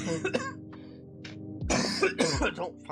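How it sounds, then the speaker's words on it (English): A short burst of coughing lands in the middle of ongoing talk, a couple of harsh throaty bursts close to the microphone. "I had a cough then"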